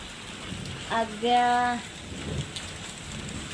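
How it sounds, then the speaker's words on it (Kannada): Steady rain hisses in the background while a brief, drawn-out tonal sound, like a voice or horn, rises over it once. "ನೋಡ್ರಿ ಎಷ್ಟು ಮಳೆ ಬರಾಕತ್ತದ"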